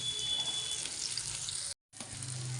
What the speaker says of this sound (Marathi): गरम गरम तेलात कांदा पण टाकला आणि लसूणही टाकते